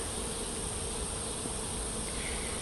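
Bees buzz around a weak, dwindling hive that was recently robbed, a soft continuous hum with no distinct individual passes.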